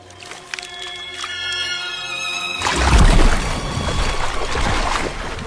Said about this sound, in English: slapping them hard against the water to create an air pocket